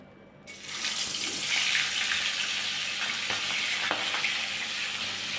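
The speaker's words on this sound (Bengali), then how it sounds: "এবার মাছের মাথাটায় নুন হলুদ মাখিয়ে এটাকে আমি লাল করে ভেজে নেব।" A fish head rubbed with salt and turmeric fries in hot oil, a loud, steady, close sizzle that starts after a brief quiet moment, with a few faint clinks.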